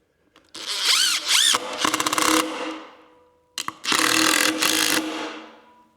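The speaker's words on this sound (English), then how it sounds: "the screw to counterbore itself into the wood" A power drill drives a screw into a 2x4 board in two loud whirring bursts, its motor pitch rising and shifting as it works, a short pause between them, with no talking.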